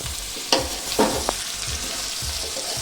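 Onions and beef are being stirred in a frying pan, with a steady sizzle throughout and a few sharp scrapes and clanks of the spoon against the pan.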